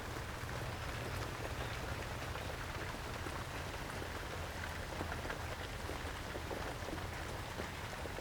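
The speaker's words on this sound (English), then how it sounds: "You can just hear the rain" Steady rain falls continuously, a dense even hiss with no break and no voices.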